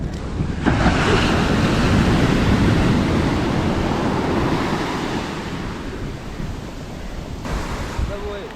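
Steady roar of surf and gusting wind at Ponnani beach on the Kerala coast, loud and continuous throughout with wind buffeting the microphone and no voices.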